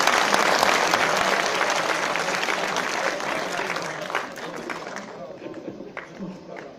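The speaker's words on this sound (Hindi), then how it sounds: "थोड़ा सा ये तालियां इस वक्त दवा और शिफा का भी काम करेंगी" A mushaira audience claps in a dense burst of applause that starts loud and gradually thins and fades, with a speaker's voice over the tail end.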